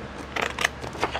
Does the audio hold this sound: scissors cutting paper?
yes